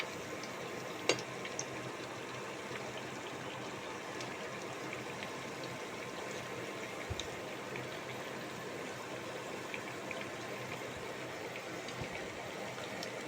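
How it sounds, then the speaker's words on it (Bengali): Batter fritters frying in oil on an induction cooktop, giving a steady, low crackling hiss throughout with a sharp click just after the first second. "নিয়ে এসে তারপরে আবার আমি এগুলো ভাজা শুরু করলাম।"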